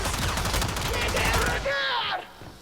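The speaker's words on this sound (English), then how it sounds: "let's see how fast I get killed by this heavy gunner" Bursts of automatic gunfire from a heavy gunner enemy in the shooter game Warframe, dense rapid shots for about a second and a half, then a fading electronic whine with no speech.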